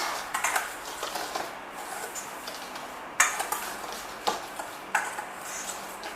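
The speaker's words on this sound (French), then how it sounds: "avec mon fouet, je viens mélanger le tout" Whisking flour and salt together in a bowl with a metal whisk for pancake batter, giving light repeated scraping clinks against the bowl with a few sharper taps, fairly close and alone.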